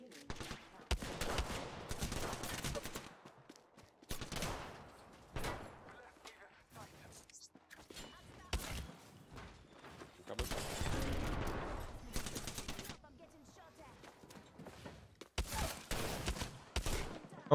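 Gunfire in an online battle-royale shooter, with repeated loud bursts of automatic shots and single cracks spread across the stretch, separated by quieter gaps.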